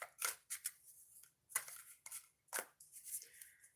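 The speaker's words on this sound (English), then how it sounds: "I'm going to shuffle it a couple of times and then we'll get started" A deck of oracle cards being shuffled by hand, several bursts of crisp riffling and flicking paper sounds in uneven clusters, close and fairly quiet, with no speech.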